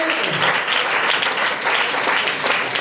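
Steady applause from a church congregation clapping for the Lord, a thick, sustained patter with slight swells that fills the whole stretch.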